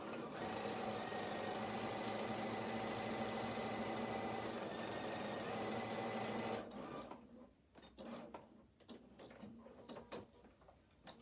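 A sewing machine stitches a denim skirt in a steady, loud, close whirring run for several seconds, then stops, leaving quieter handling clicks and rustling.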